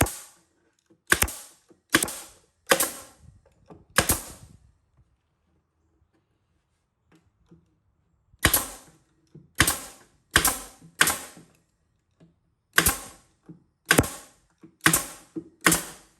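A caulking pressure gun applying sealant around a vessel sink cutout during a vanity install, sharp ratcheting clicks in two clusters of about five pumps each separated by a quiet gap, close and alone.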